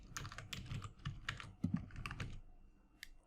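Rapid typing on a computer keyboard, clicky keystrokes in quick irregular bursts, fairly close and alone with no talk.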